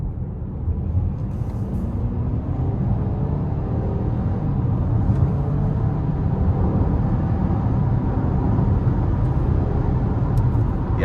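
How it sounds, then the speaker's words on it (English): A 2026 Chevy Blazer 2LT with the 2.0-litre turbo engine pulls hard from inside the cabin, its low engine drone and road rumble holding steady and strong for the whole stretch, with no talking. "I'm gonna give it a little something and see how it accelerates"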